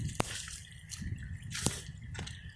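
Water drips inside a building being set up as a new home for a mushroom business, with a few sharp, separate drops falling at irregular intervals over a quiet background.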